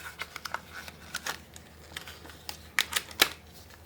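Cash bills being stuffed into a paper envelope, with crisp rustling and papery snaps coming in irregular bursts, close and fairly quiet, with sharper crackles near the end.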